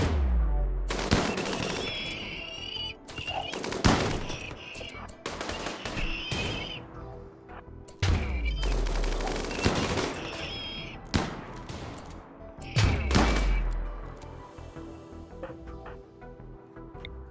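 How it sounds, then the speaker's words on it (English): A minigun in the video game RimWorld fires in long, rapid bursts, mixed with booming impacts and explosions, loud and continuous over most of the stretch with brief pauses. "That EMP plus that minigun though."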